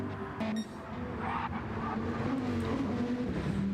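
A Dodge Viper GT3 race car in a racing game at St Croix roars steadily at close range, engine note holding loud and continuous with a brief dip early on, as a car passes.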